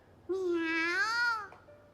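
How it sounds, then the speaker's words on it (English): A kitten in the visual novel You and Me and Her gives a single clear, rising and falling meow lasting just over a second, close and alone against a quiet background. "The kitten meows as if in agreement."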